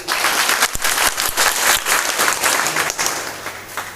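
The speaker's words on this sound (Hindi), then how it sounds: "उन सबका एक ताली बजा के स्वागत करिए।" An audience at an ITI campus placement event claps loudly and continuously in welcome, dense applause filling the room.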